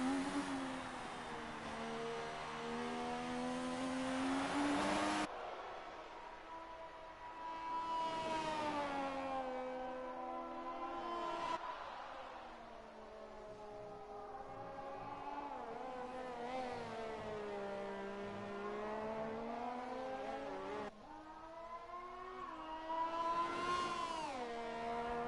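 Race car engine of the 1980 number 88 car in a classic Japan Grand Prix racing video game, a steady near-continuous whine with pitch sweeping up and down through gear changes, cutting off sharply at shifts, heard alone.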